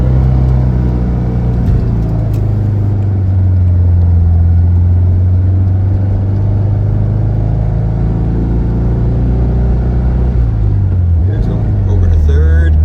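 A 1969 Volkswagen Beetle Convertible engine drones steadily from the cabin on a ride along, its pitch dipping and then rising again as it downshifts into second near the end.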